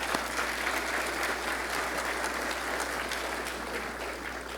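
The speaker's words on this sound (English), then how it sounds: "take a round of applause" Audience at an economic summit at Stanford applauds, a steady wash of many hands clapping heard from a distance in a large hall, even and continuous with a faint low hum underneath.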